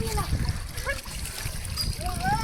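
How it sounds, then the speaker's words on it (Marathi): Water splashes as it is scooped and tipped out of a pot holding caught fish, while nearby voices talk over it. "भावेश आहे ना पाणी काढतोय"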